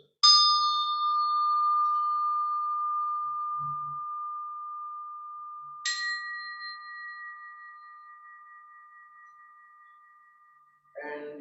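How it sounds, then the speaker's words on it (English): Energy chimes are struck twice, about six seconds apart. Each strike gives a bright ring that decays slowly into a long, clear sustained tone, and a brief rustle follows at the end. "And these are called energy chimes."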